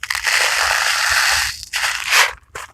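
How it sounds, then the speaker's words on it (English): Loud, close crunching of Nerds candy being chewed, in crackly bursts with a short pause before a final crunch. "Sorry about the noise. I'm gonna eat a little nerd here."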